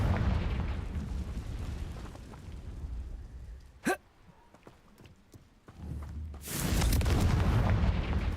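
A Confringo blasting spell detonates in the Hogwarts Legacy video game, with rumbling booms at the start, a sharp streaking whoosh midway, then a heavy, sustained explosive roar to the end.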